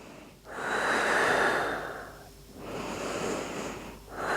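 Deep, slow breathing during a relaxing yoga session, with two long airy breaths close to the mic separated by a brief pause and a third breath beginning, and no talking.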